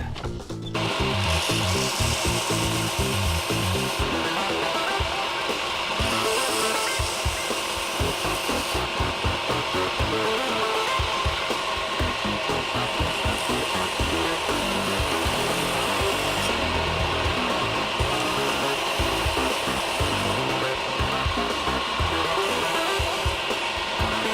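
A belt grinder fitted with a 120-grit aluminum oxide belt grinds the bevels of a heat-treated W2 steel neck knife, giving a loud, steady abrasive rasp that continues without a break, with no talking.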